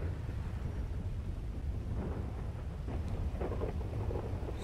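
A thunderstorm in the video game Grand Theft Auto V rumbles low and continuous, with steady rain hiss and a few sharper crackles of lightning toward the end.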